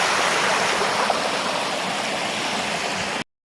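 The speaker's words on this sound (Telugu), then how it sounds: "నీళ్ళు పారి." Water rushes steadily in a stream in Seoul amid ice and snow, a close, even torrent of splashing flow that runs unbroken and then cuts off abruptly.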